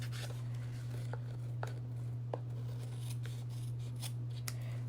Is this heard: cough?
no